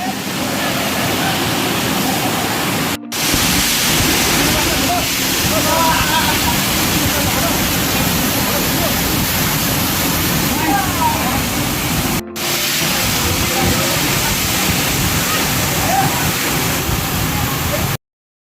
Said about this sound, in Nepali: यतापट्टि अर्को पनि ठुलो झरना छ हैन